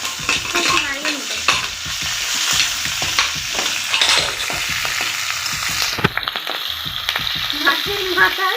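Spices fry in oil for a curry of rohu fish head and taro leaves, a close, lively sizzle broken by repeated scraping stirs and spatula knocks against the pan.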